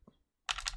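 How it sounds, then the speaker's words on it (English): Typing on a computer keyboard while entering a name during an addon setup, a brief faint tap early on, then a dense burst of quick clicking keystrokes close by. "I'll just type it in."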